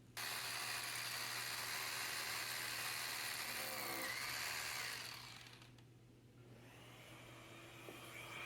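Power drill boring holes in a wall for floating shelf rods, with a dust collector running alongside; a loud steady whine that runs unbroken for several seconds, then drops to a quieter hum as the drilling stops.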